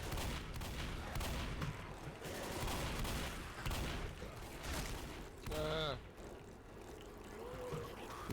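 Rapid bursts of gunfire crackle densely in Left 4 Dead during a crash site finale, loud and continuous over game noise, with voices talking over the action.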